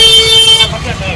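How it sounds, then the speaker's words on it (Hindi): A loud, sustained six-pipe air pressure horn blares close by and then cuts off, leaving a rumbling engine and background noise. "तो भाई देखा कितना जबरदस्त हॉर्न बज रहा है"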